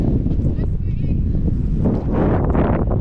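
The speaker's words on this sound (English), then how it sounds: "The wind is very strong." Strong wind gusting over the Mui Ne sand dunes in Vietnam, roaring and buffeting close to the microphone, swelling louder toward the end, with people talking over it.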